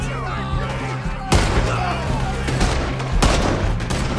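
Gunfire in the Red Dead Redemption 2 video game: a couple of loud, booming shots ring out over a continuous din of game music and ambient noise, with no voices clearly present.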